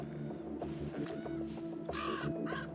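Crows gather on snowy ground where a wolverine feeds, with several harsh caws from more than one bird rising over a steady low rumble of background noise, the later calls louder and nearer.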